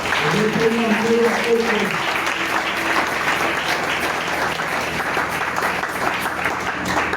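A church congregation claps and cheers loudly and continuously, with voices and sung tones rising over the applause at first before the clapping carries on alone.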